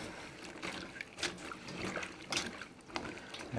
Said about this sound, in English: Get them washed up.